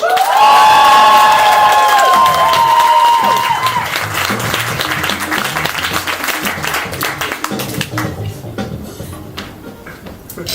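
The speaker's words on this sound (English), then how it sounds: "Give us a big round, cheer them and clap and go wild." Applause and cheering from a comedy club audience at a Bright Club Newcastle show greet a performer, loud at first with whoops and voices, then thinning into scattered claps that fade over about ten seconds.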